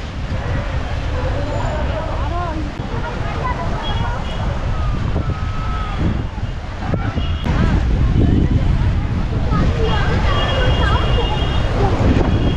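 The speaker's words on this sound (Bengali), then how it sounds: "দারুণ হাওয়া দিচ্ছে, দারুণ হাওয়া দিচ্ছে, দারুণ দারুণ লাগছে।" Strong wind roars across a riverside at Diamond Harbour as a steady, loud rush of buffeting noise into the microphone, with faint traffic and siren-like tones far off.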